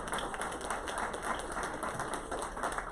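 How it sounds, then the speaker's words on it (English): Applause from a crowd at a county adoption day ceremony, a dense patter of many hands clapping continuously at a moderate, slightly distant level. "You all give another round of applause to Mr."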